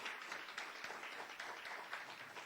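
A church congregation giving a round of applause, a faint, distant wash of many hands clapping steadily without pause.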